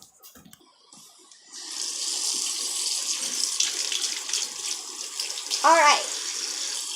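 A kitchen tap runs steadily, filling a measuring cup with water for baking, the splashing flow starting after a brief spoken word with a voice briefly heard over the water.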